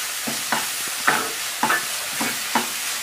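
Jackfruit, coconut and sugar stirred in a pan, about five distinct rhythmic scraping strokes over a faint sizzle, close and clear with no talking.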